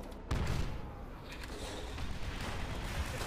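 A grenade goes off in Call of Duty: World at War co-op on Veteran difficulty, a sudden close blast leaving a sustained roaring rumble with a distant crackle of gunfire.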